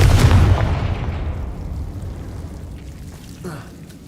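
A fiery Confringo spell explodes in the Hogwarts Legacy video game with a loud, heavy boom up front. It then rolls off into a long, fading rumble.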